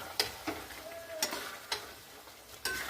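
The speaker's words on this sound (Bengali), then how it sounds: "আর এইদিকে খাসির মাংসটা রান্না হচ্ছে, মা করছে।" Mutton cooks in a pan on a home stove with a soft, low sizzle, broken by sharp, evenly spaced clicks like a spoon stirring against the pan. No voices are heard.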